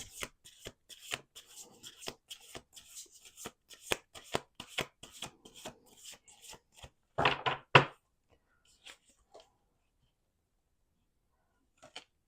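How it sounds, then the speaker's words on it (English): Rapid crisp riffles of playing cards being shuffled, a quick run of snaps ending in a louder bridge, then a few soft taps and quiet. "Let's do one more shuffle."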